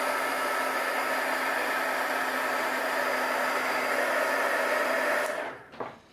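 A hair dryer blows steadily on wet watercolor paint for about five seconds, a loud, even whir with a faint hum, then shuts off and winds down, followed by a small knock.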